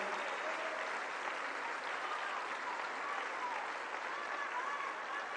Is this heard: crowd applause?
yes